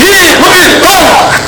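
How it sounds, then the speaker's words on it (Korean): A campaign rally crowd in Andong roars with loud, sustained cheering and shouting voices for a gubernatorial candidate's event, rising and falling close by without a break. "여러분 박수 보내주시기 바랍니다."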